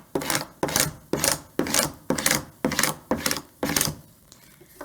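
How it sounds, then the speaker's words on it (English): A burnishing tool scrapes repeatedly over vinyl transfer tape for a Cricut welcome sign, making eight even, close rasping strokes in a regular rhythm before fading. "I'm just going to burnish one more time."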